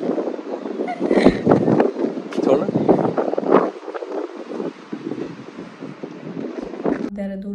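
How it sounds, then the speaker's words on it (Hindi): Strong mountain wind on a trip from Rudraprayag toward Dehradun, a continuous loud roaring buffet across the microphone that surges and eases, with someone talking through it. "ये देखो इतनी तेज हवा चल रही है"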